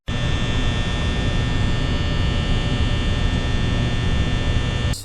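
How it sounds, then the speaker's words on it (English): Steady electrical buzz of fluorescent lights in The Backrooms video game, a loud unbroken mains hum with a fixed high whine on top, droning alone from start to finish. "you can actually hear electricity fly into the lights."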